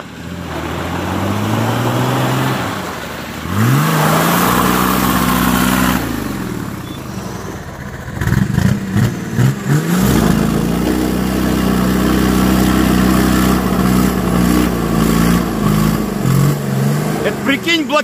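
A Nissan Patrol stuck on ice revs its engine loudly and close, the pitch rising and falling with repeated bursts of throttle as the wheels fail to grip, while people talk nearby.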